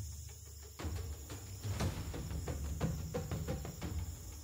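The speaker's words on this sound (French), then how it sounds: "Plus loin, les cigales bourdonnent dans le feuillage humide." Cicadas buzz in humid foliage as a continuous high drone, with irregular rustles and clicks on top, moderately loud and close, no voices.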